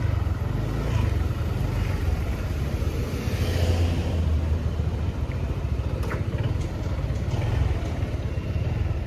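A motorcycle rides a forest road near a landslide, its engine and road rumble forming a steady, constant drone throughout with no talking.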